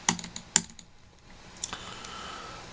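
A computer mouse button gives crisp, close clicks, quick pairs and a few single taps near the start and more scattered clicks later, tested for double-click speed in a quiet room.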